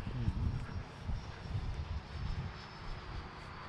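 A small model F-16 jet landing on a bumpy field runway, with a continuous rushing engine and wind roar at moderate distance and low rumbling bumps throughout.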